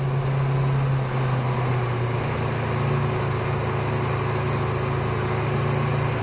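A cafe racer motorcycle engine idles steadily after carburetor synchronization, giving a smooth, even, continuous hum close up with no changes in pitch for several seconds.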